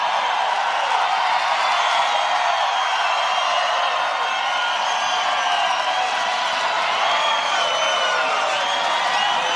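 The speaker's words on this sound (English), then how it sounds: "What a crowd!" Crowd at a Donald Trump thank-you rally in Des Moines, Iowa, cheering and whooping continuously, a dense, bright roar that stays loud and even throughout.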